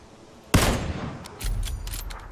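Gunfire in the battle-royale game PUBG, a sharp loud burst of shots followed about a second later by a further stretch of rattling fire, heard alone without voices.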